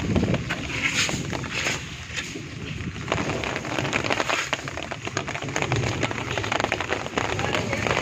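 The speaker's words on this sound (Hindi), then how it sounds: "जैसे ही ओले आना रुके तो थोड़ी-थोड़ी बस बारिश थी" Light rain falling just after a hailstorm in Multan, a steady patter of drops spread evenly throughout, with faint background voices and some movement noise mixed in.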